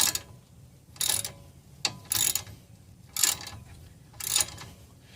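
Socket wrench ratcheting on a sway bar link nut of a Mk5 VW, four short bursts of clicking roughly a second apart, close and crisp against a quiet background.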